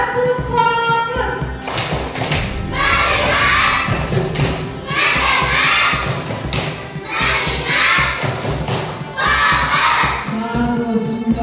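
Children in a classroom clap together in a loud, patterned rhythm, bursts of sharp claps grouped in counted sets with thumping beats, alongside some shouting voices, close by and filling the room.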